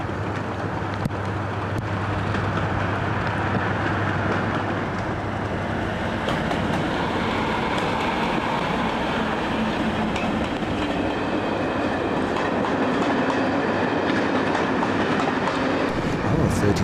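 A Class 37 diesel train rolls past Ramsbottom sidings on the East Lancashire Railway, a loud, continuous rumble of wheels and engine holding steady throughout.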